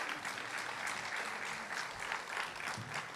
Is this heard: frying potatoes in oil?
no